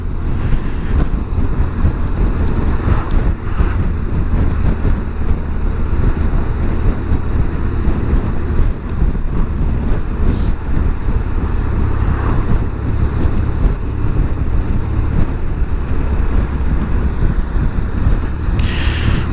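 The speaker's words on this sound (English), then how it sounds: "Oi, windy." Strong outdoor wind buffeting the microphone beside a queue of traffic, a steady loud roar and rumble lasting the whole stretch with no break.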